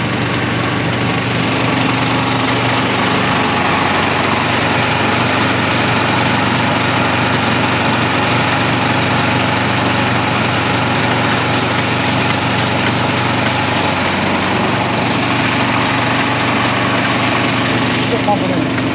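A pump runs continuously while filling a John Deere 2038R tractor tire with beet juice ballast, a loud steady mechanical drone holding for the whole stretch with a faint rattle joining later, with people talking over it.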